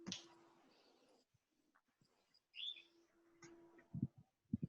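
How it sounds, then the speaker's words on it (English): A pet parrot chirps indoors at home in short, scattered calls with a few sharp higher notes, fairly close but soft, with quiet pauses between them. "What you hear is my parrot"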